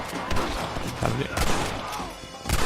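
Gunshots in the Red Dead Redemption video game, a few sharp cracks spaced across the moment, mixed with game dialogue and background sound.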